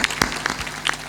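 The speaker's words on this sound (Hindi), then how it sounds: "ताली बजा" A few scattered, separate claps ring out from an audience at a satsang, sparse and uneven, like only a handful of people joining in.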